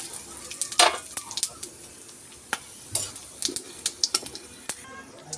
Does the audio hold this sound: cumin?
yes